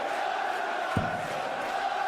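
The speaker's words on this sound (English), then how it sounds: "Huge crowd. Having a huge night at the Arras." A huge darts arena crowd in Dublin keeps up a steady, dense roar with a brief low thump partway through, the noise filling the hall at an even level throughout.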